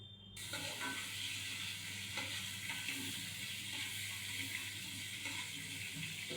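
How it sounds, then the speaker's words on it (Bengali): Prawns and diced potatoes frying together in a pan give a steady, close sizzle with faint scattered stirring clicks, continuous throughout with no talking. "এবার আলুটাকে ভাজা করে নিচ্ছি"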